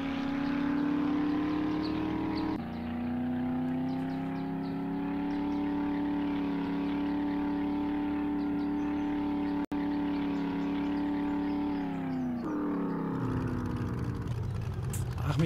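A car engine in the video game 7 Days to Die, droning steadily with a strong harmonic hum, shifting pitch a couple of times before cutting out near the end, with a voice talking over it.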